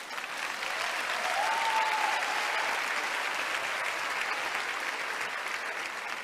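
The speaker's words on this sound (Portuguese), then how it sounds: "Pode aplaudir." Sustained audience applause at a church sermon, a dense even patter of clapping from a crowd that holds steady throughout, with no speech over it.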